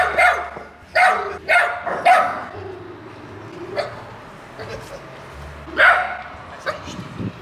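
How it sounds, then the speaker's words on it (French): A dog barks in a quick series of sharp, loud barks, then goes quieter, with a few softer yelps and one more bark later, fairly close. "Il y a le chien qui répond."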